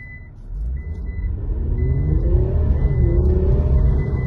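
A 2021 Infiniti Q60 with a V6 twin-turbo engine revs up from idle, a low rumble rising and swelling in pitch and loudness over a few seconds, with a steady electronic chime sounding alongside.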